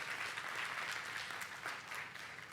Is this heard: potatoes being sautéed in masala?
no